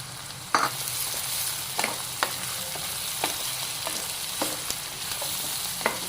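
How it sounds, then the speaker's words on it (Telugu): Small peeled onions fry in a pan for onion pulusu gravy, giving a continuous close sizzle broken by sharp, irregular clicks and scrapes of a stirring spoon against the pan, with no voices. "ఇప్పుడు ఇందులో ఇలాగా మనం ఒలిచి పెట్టుకున్న ఈ చిన్న ఉల్లిపాయలు వేసేసుకుందాం."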